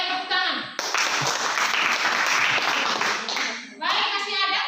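A school class bursts into a few seconds of loud, dense applause during a lesson, with a teacher's voice speaking just before and after the clapping.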